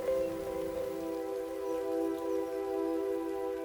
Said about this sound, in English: If it keeps raining, we won't move in here.